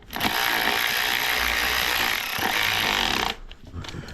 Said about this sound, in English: I'm just going to use this 3/8 ratchet. It's like a USB ratchet.